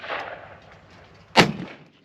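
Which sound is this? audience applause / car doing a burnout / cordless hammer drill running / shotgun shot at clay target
shotgun shot at clay target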